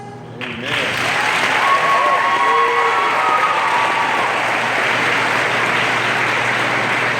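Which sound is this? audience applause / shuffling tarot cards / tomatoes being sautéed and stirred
audience applause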